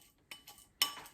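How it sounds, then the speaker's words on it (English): A spoon works shea butter in a pot, making a few quick, soft clinks and scrapes close by with short pauses between them. "I find it easier to use the back of the spoon to soften and mix it"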